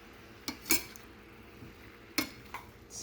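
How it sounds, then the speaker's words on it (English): A utensil stirs eggplant, yellow squash and cucumber in a pan, giving a few sharp, close clinks and scrapes against a quiet background. "Stir it up, of course."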